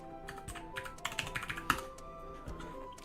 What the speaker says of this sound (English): So I'm typing terribly because Socks is in the way.